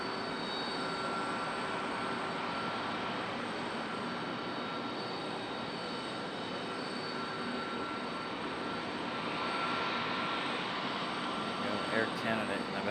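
An Air Canada jet airliner taxiing at Charlotte Douglas International Airport, its engines giving a steady, broad rumble and whine that holds at moderate loudness throughout, with faint background airport noise and a slight swell near the end.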